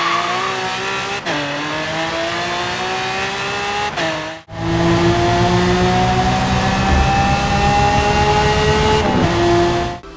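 A Lamborghini Aventador engine in Forza Motorsport revs hard and close in sustained, rising pitched pulls, broken by two quick dips as gears change, with no talking.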